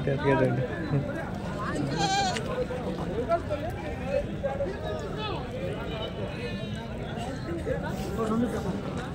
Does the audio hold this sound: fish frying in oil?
no